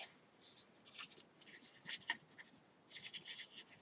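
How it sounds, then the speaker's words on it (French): Paper being scored along fold lines for a mini album base, a series of quiet scratchy strokes in short bursts with pauses between, close and faint. "je marque mes plis de façon que ça fasse ma base d'album"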